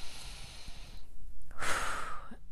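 A single slow breath is drawn and released close to the microphone, soft and airy, with a brief rising inhale then a gentle exhale.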